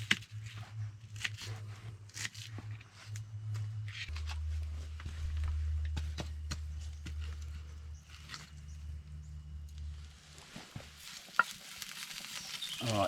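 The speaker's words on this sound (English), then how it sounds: "I'm going to pan fry this today rather than do the roasting in the fire." Onion frying in a pan over an outdoor campfire gives a low steady sizzle with occasional stirring scrapes and small clatters, faint and close, with no talking.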